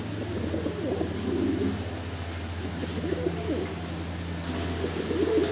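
Fancy pigeons cooing in repeated low, throaty phrases, close and fairly clear over a constant low hum, with several soft calls overlapping and no talking.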